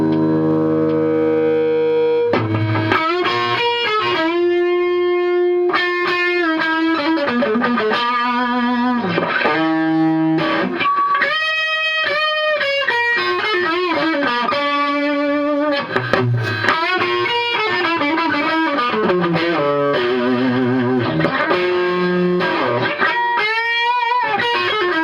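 Heavily distorted electric guitar through a Gollmer Fat Dist distortion pedal plays sustained chords and melodic lines, loud and thick with a saturated buzzing tone throughout.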